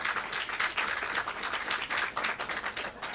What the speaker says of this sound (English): Let's give Cassandra and Joe Smith a great round of applause.